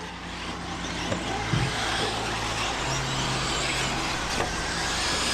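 Electric RC truggies racing around a track in an E-Truggy main event, a steady dense whine and hum of small motors and tires filling the whole stretch, loud and continuous with brief surges as cars pass.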